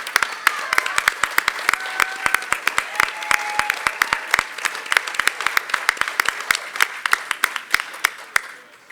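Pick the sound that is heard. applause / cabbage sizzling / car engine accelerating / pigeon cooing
applause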